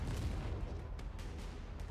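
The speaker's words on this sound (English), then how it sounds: "An explosion rings out, causing the surroundings to shake." Deep explosion rumbling through a video game cutscene, a heavy low boom that rolls on steadily with a few sharper cracks layered over it, no voices.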